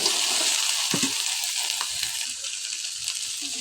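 Onions hit hot oil in a pan for a Bengali okra (bhindi) fry, giving a loud, even, close sizzle with a few bubbling pops and no speech.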